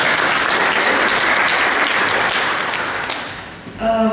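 Audience applause at an agricultural policy reform panel event, steady clapping from a sizable crowd filling the room, dipping briefly near the end before a last burst.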